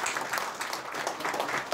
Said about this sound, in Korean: 박수 한 번 더 부탁드릴게요.